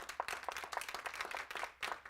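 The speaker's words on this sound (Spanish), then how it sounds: "Denle un aplauso fuerte al Señor" A church congregation claps in praise to the Lord, a short burst of many hands with some sharper individual claps standing out, quiet and somewhat distant.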